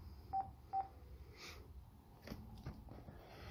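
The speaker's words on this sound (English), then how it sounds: "I'm simply just going to press the speaker button to disconnect." An Avaya J139 desk phone's speaker button is pressed to end a call, giving two short, clear electronic beeps early on, followed by faint clicks and rustles in a quiet room.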